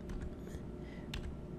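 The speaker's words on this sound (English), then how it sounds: "I'm going to use the arrow keys to place it." Arrow keys tapped on a computer keyboard to position a block in Tinkercad: a handful of light, close clicks scattered over a constant low hum, no talk.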